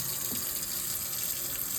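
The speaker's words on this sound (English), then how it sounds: "Nice sink. Let's test the water." Water pours from a kitchen sink tap in a house for sale at Newman Lake, Washington, a steady moderate stream with a bright splashing hiss, continuous and without talk.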